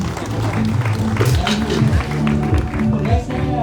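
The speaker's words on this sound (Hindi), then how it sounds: "और तालियां तालियां।" An audience at an annual function applauds, a dense crowd clapping under loud background music with a voice speaking over it.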